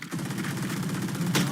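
Rapid automatic gunfire rattles in a multiplayer shooter video game, a fast steady burst of close shots running nearly the whole time with a brighter crack near the end.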